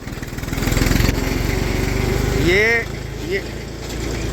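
A Massey Ferguson 35 tractor engine runs slowly with a steady low chugging beat, close and continuous, while someone talks over it and a short squeaky tone rises briefly.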